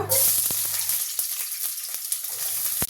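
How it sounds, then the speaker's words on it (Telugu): Onions fry in hot oil with cinnamon, cloves and cardamom, a bright, steady, close sizzle with light crackles and a few stirring knocks. "ఉల్లిపాయలు మంచిగా ఎర్రగా ఫ్రై అవ్వాలి"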